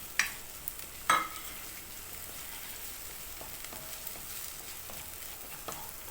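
Onions cook in a pan on a gas stove with a quiet, steady sizzle, broken by a couple of light clinks near the start.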